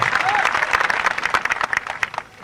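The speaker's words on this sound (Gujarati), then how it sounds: "એટલા બધા તાળીઓથી જોરદાર વધાવજો" An audience at a Thakor community gathering breaks into loud, dense applause for the performing artists, a close wash of many clapping hands that thins out toward the end.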